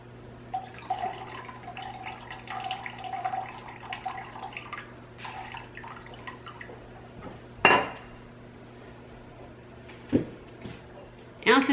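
Water and rice vinegar are poured while mixing in a home kitchen, giving soft trickling and splashing with a few sharp clinks of dishes and utensils near the middle and end, under a low steady hum.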